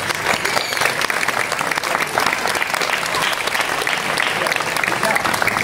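An audience applauds candidates on stage at a casting for the Cucafera festival's princess and knight, with thick, lively clapping that holds steady throughout, with some voices mixed in.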